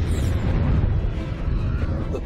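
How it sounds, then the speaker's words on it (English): A supernova sound effect from a space documentary rolls as a deep, sustained rumbling boom, loud and low without letup for a couple of seconds. "A supernova explosion is an incredibly powerful explosion."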